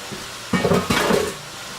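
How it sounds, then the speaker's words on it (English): Cabbage, tomatoes and onions stirred together in a pot for a cabbage roll casserole: two short bursts of clanking and scraping, close and moderately loud, with no one talking. "then we're going to add the cabbage and the tomatoes and stir it all together"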